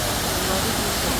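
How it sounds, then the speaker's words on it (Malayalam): A waterfall near Adimali roars as a dense, steady broadband rush, loud and continuous throughout, heard close by without pause. "അടിപൊളി വെള്ളച്ചാട്ടം കേട്ടോ."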